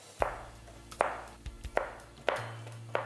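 A knife chopping garlic into pieces on a board, five or six sharp separate knocks at an uneven, unhurried rhythm, close and clear with a faint background hum.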